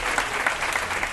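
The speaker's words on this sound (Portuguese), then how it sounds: "Aplauso para nossa irmã." Applause from a church congregation at a Bible study gathering in Rotterdam, a dense, steady patter of many hands clapping together, loud and close, with no voices over it.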